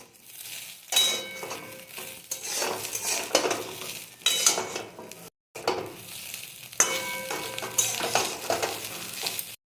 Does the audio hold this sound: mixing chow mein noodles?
yes